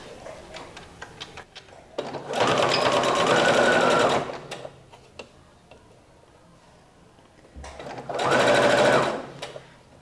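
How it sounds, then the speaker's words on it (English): A sewing machine stitches a folded fabric seam in two steady bursts of rapid, motorized running, each lasting about two seconds with quiet handling sounds between them. "I'm gonna start sewing it all the way along till the other end."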